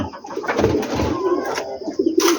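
Pigeons cooing together inside a dim coop, a steady, overlapping murmur of soft throaty calls that continues without pause at moderate loudness.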